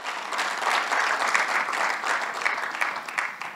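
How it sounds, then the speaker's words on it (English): A church congregation claps together during a sermon, a dense, steady wash of many hands that holds at an even volume throughout without pausing. "Give him another clap."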